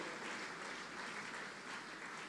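A church congregation at a live worship service applauds in a steady, even wash of clapping with faint cheering, distant and fairly quiet, with no pause.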